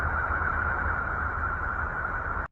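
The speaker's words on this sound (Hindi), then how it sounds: "यूरेनस की आवाज सुनने में हमें गूंजती हुई लगती है।" Voyager spacecraft recordings of electromagnetic vibrations from Uranus, converted to sound: a steady, dense, hissing drone with a sustained hum, constant and loud throughout, heard alone before an abrupt cutoff.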